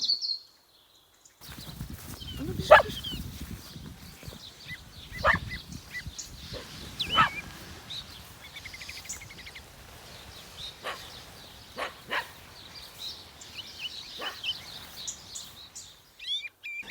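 A dog barks outdoors in an orchard with early cherry trees, several sharp barks scattered irregularly at moderate distance, with bird calls and other faint background sounds in between.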